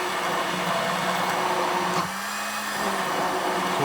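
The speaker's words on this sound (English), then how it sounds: "I've got an immersion blender. We're going to use this to make the foam" An immersion blender whips a lemon and Pernod mixture into foam, giving a steady, loud motor whir with a slight pitch shift midway and no talking.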